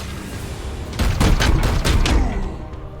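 Gunfire in the video game Warhammer 40,000: Chaos Gate Daemonhunters comes as a loud burst of several rapid shots and booms over a steady game ambience, then fades back to the background hum.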